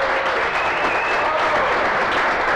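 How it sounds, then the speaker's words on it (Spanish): Strong, continuous applause from the crowd at an awards gala for a homebrewing competition, dense and even throughout with no voices on top. "Dani, y recibe un fuerte aplauso."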